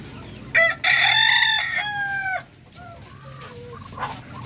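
A large Darag native rooster on a farm crows loudly and close, one long drawn-out call, followed by softer clucking and faint background sounds.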